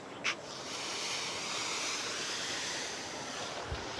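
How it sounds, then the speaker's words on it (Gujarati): Continuous rushing of the Sabarmati River flowing full, a broad steady roar with a couple of faint knocks, no voices. "મિત્રો જોઈ શકો છો પાણી ફૂલ ચાલુ છે નદીનું"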